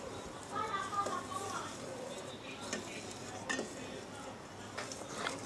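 A spoon stirs a milk and custard-powder mixture in a pot as it thickens, with faint scraping and soft metallic clinks that come and go at a quiet, unhurried pace.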